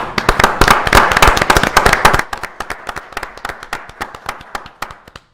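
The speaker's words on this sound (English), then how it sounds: "Let's give those people a round of applause" Sharp, close handclaps from a small group at a city council meeting honoring award winners, dense and lively at first, then thinning to a few scattered claps that trail away.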